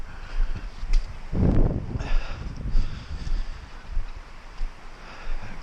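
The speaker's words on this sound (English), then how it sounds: "you can hear those trees over there in the field just whoa" Gusty wind rushes through trees in the open, swelling and fading in waves, with a rough buffeting rumble on the microphone.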